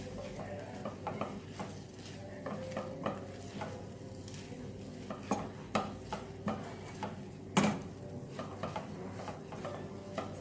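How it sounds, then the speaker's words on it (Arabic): Chicken filling with soy sauce and a spoonful of soy oil sautéing in a pan, a steady soft sizzle broken by repeated scraping stirs and clinks of the utensil against the pan, close and without talk. "صافي غنشحر هاد الشيء، نشحر واحد شويه ونرجع معاكم."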